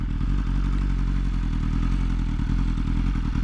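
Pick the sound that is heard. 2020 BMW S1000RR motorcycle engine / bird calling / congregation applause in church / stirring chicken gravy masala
2020 BMW S1000RR motorcycle engine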